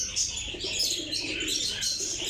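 Pure Salara pigeons cooing and chirping steadily at close range, a soft continuous murmur of calls from a pigeon loft with no talking.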